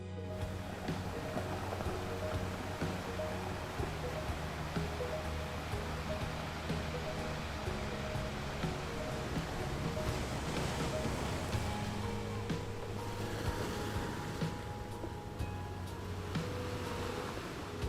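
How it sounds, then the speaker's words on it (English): Ocean surf rolls and crashes continuously on an endless beach at Surfers Paradise, Australia, a steady broad wash of water noise with no voices, moderately distant. "There's something raw about the sound of the ocean crashing on that endless beach."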